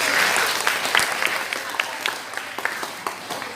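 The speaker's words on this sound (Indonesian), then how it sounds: "Ya, boleh tepuk tangan silakan." An audience at a talk in an Islamic boarding school breaks into applause, with dense, even clapping that stays fairly loud for the whole few seconds and thins slightly toward the end.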